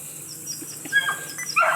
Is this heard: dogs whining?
yes